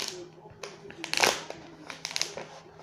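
Packaging on a Deathly Hallows collectible is peeled and crinkled by hand at close range, quiet plastic rustles and sharp crackles in short bursts, the loudest crinkle near the middle, with soft talk in the background.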